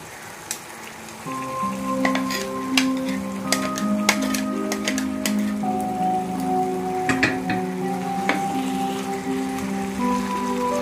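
Fish slipped one at a time into a hot spice mixture in a pan crackle and sizzle steadily, with sharp pops and a tonal hiss rising as each piece goes in, close and loud, and no one talking.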